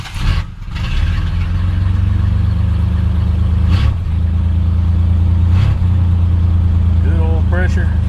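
Car engine starting after sitting in freezing weather: a brief crank, then it catches and settles into a steady, loud, close idle with a couple of small bumps, and a voice speaks briefly near the end.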